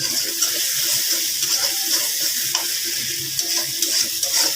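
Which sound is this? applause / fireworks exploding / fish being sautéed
fish being sautéed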